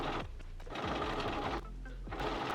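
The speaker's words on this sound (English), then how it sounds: "I'm just going to sew about 5/8 of an inch away from the edge." A sewing machine runs a continuous stretch stitch along a dress waistline, a close, rhythmic mechanical chatter with quick needle strokes and a faint television playing in the background.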